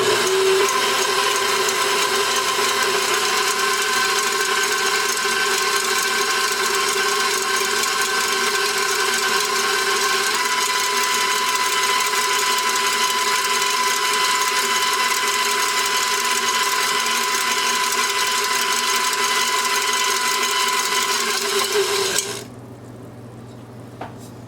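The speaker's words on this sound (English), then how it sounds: "So I have a KitchenAid, and that's what we're going to be using right now" KitchenAid stand mixer whipping a potato mixture: a steady, loud motor hum with a constant whir and faint clatter for over twenty seconds, then it switches off abruptly.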